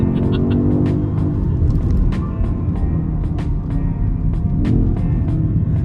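A 2023 BMW XM engine revs with a deep rumble in second gear, rising and falling in pitch as it pulls hard, with a few sharp clicks over it.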